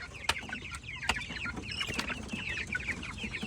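Rhode Island chickens clucking on a mountain farm, with several birds giving overlapping soft clucks and short calls at moderate distance, continuous and busy, and no talk.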